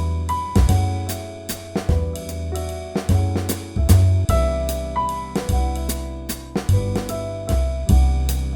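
Solo jazz piano arrangement of a song, left hand sounding rootless chord voicings under the melody; steady rhythmic chord stabs in waltz-like pulse, close and clear, no talking.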